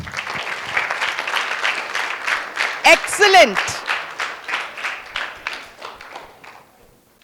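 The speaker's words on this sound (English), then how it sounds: "will you all give him a big clap?" An audience at a history workshop during a literature festival applauds a participant with sustained, dense clapping that swells midway and tapers off at the end, while a voice briefly speaks over it.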